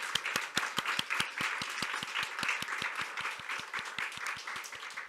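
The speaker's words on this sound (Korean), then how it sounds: "힘찬 박수로 영광 올려드립니다." A congregation claps together during a church worship service, with steady, strong rhythmic unison beats. The clapping is loud, even and fairly close, with a dense wash of many hands behind the beat, and it keeps going without a break.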